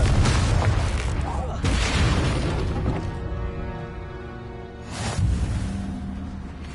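The Confringo fire spell in Hogwarts Legacy on PS5 goes off as booming explosions, two loud blasts a couple of seconds apart with a rumbling tail and a third burst later, amid game music and voices.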